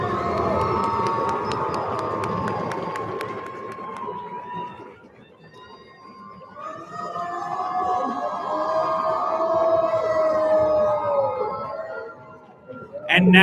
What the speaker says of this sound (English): Another round of applause for our oratory finalists